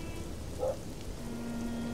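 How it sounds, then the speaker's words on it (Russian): Steady rain pours down outside a house, spilling into a basement window well in the game The Black Mirror 2; a soft, even hiss with faint spatters, no voices. "Дождь хлещет прям в подвал"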